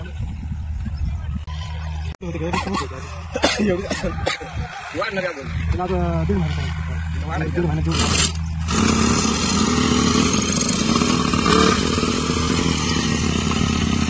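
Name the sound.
farm water pump engine starting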